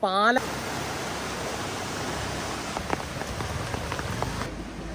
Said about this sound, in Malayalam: പുറത്ത് നല്ല രീതിയിലുള്ള മഴയും കാര്യങ്ങളും ഒക്കെയാണ് കേട്ടോ പെയ്തുകൊണ്ടിരിക്കുന്നത്